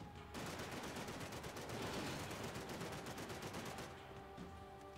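Rapid gunfire from the Max Payne 3 video game, a dense sustained burst of shots running for several seconds at steady loudness, then easing off near the end.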